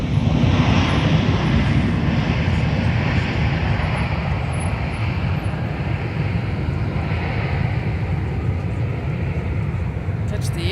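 A continuous, loud jet airliner roar at MSP airport during a landing, steady broadband rumble with strong low-end throughout, a close aircraft engine sound with no pauses or voices standing out.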